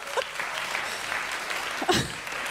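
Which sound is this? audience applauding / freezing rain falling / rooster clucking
audience applauding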